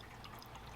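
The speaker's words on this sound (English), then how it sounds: "But you're always going to have this trickling water effect to some degree." Water from an aquarium filter outflow in a Fluval Kühl aquascape tank, trickling and splashing in a steady, soft, continuous stream.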